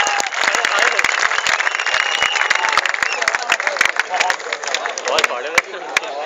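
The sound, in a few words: loud audience applause at a poetry gathering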